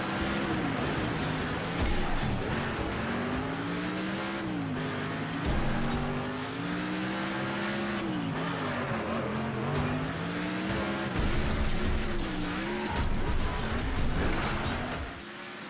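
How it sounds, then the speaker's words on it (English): Several race cars in the early alpha of Next Car Game roar around a track together, with engines rising and falling in pitch, crunches from collisions and a dense, continuous mechanical drone throughout. "24 cars racing back, you never have to look far for the next pile-up"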